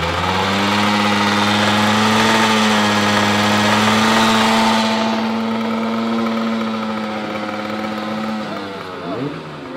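A small two-stroke engine idles steadily at close range with a buzzing, harmonic drone, then winds down and sputters toward the end.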